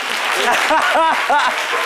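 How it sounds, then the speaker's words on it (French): Brief audience applause, a dense clapping wash that stays fairly loud, with a voice talking over it the whole time. "Faut applaudir pour ces papas responsables."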